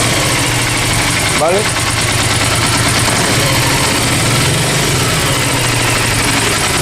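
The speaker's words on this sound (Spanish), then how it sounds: "suena igual de bien con un solo cilindro que cuando ya he arrancado la moto" A Hyosung 650 Aquila V-twin motorcycle engine idles steadily and loudly close by while only one cylinder fires during a fault check, with a brief spoken word near the start.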